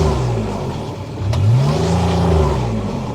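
A 2017 Kubota RTV-X900 utility side-by-side with 1095 hours, in full drive, revs up close by: the engine note dips, then climbs and holds in a loud rising whine before easing slightly.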